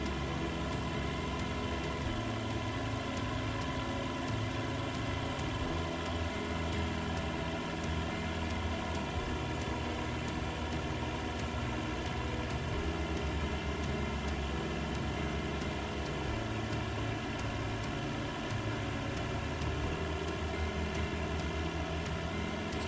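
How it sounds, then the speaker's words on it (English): A Cessna 172 engine in Flight Simulator 2020 drones on in cruise over Malta, a constant, even hum with steady tonal layers and no change in pitch, no voices. "So this Cessna 172 is so gentle to fly."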